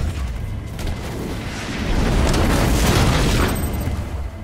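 An enemy structure being destroyed in the video game Halo Wars 2 gives a deep, rumbling explosion that swells and holds for several seconds, loud and dense with debris-like crackle.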